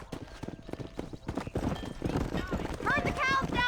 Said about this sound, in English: Get behind the herd. That should start them moving in the right direction.